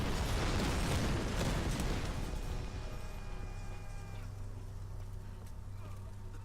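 A thrown explosive goes off in the Tomb Raider video game: a loud, broad blast at the start that fades into a long, rumbling decay with a faint ringing tone.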